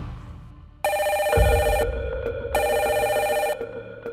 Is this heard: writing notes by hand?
no